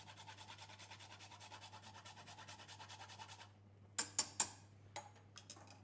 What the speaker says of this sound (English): I like to use one of these that whole nutmeg I can grate in.